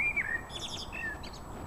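A bird calls loudly from a bush with a series of high chirps and whistled notes over steady outdoor background noise, and no one speaks.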